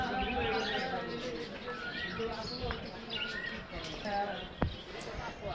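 Pigeons at an outdoor market coo and chirp faintly, mixed into a busy crowd murmur with people talking nearby and a sharp knock near the end.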